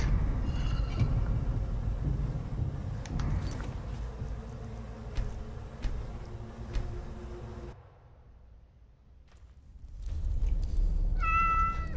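A cat meows repeatedly over a steady low rumble of game noise, the calls spaced out across the stretch, which drops quiet briefly before the background returns with another meow near the end.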